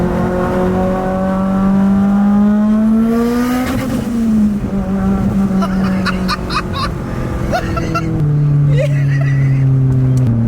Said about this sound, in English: I can do 1 decent pull on the street with some load on it